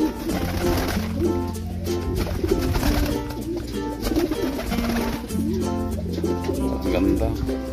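Pigeons coo continuously at close range in a thick, overlapping chorus that stays steady throughout.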